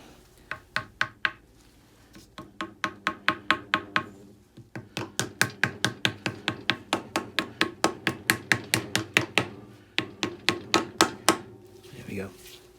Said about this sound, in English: And a light, just a plastic faced hammer